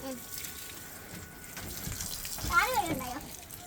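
A tap runs in a steady low wash of water while something is rinsed at a household sink, with faint voices briefly underneath near the end.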